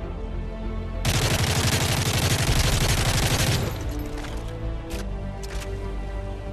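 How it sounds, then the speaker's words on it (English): An M4A1 assault rifle fires a sustained automatic burst in Modern Warfare 3 multiplayer, rapid loud clatter lasting about two and a half seconds, followed by a few isolated clicks and quieter game sounds. "Now let's see how much recoil the M4 really has."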